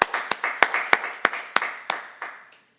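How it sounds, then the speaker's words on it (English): Small-group applause for medical graduates, about a dozen distinct claps in a steady rhythm, close and fairly loud, slowing and fading out over under three seconds. "we want to give you a round of applause"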